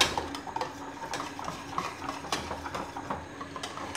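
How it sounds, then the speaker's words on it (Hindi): A spoon stirs a thickening chocolate dessert mixture in a pan over a low flame, making steady scraping and clinking against the metal that keeps going without a break. Nobody talks. "इस स्टेज पर आपने कॉन्टीन्यूस इसमें चम्मच चलाना है"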